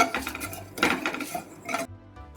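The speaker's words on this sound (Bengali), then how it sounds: "সেই একইভাবে আমি নাড়তে থাকবো, একটু সিমুইটাকে লাল লাল করে ভেজে নেব" Vermicelli frying with cashews and raisins in a pan, stirred with a metal utensil that makes a series of close, scraping clatters against the pan; no talking.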